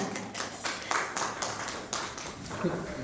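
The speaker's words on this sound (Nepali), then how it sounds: "उहाँलाई जोरदार तालीले स्वागत गर्नुहुन हार्दिक निवेदन गर्छु" An audience at a literary event gives a steady round of clapping to welcome an honoree, with moderately distant claps continuing under a voice speaking.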